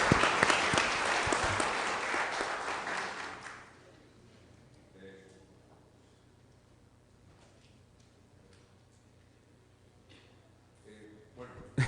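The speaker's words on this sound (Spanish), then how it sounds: "quisiera pedir un aplauso para el doctor Neira" Audience applause for Dr. Neira at a legal lecture on immediate criminal proceedings, a dense burst of clapping for about four seconds that then cuts off, leaving a quiet room with faint murmurs.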